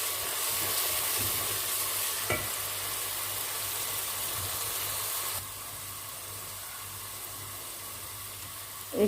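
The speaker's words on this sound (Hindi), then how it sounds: "इसको अच्छी तरह से मैं भून रही हूँ।" Red chili, ground coriander and turmeric roast in a pan for chicken curry, giving a continuous close sizzle and hiss that eases slightly partway through, with no talking.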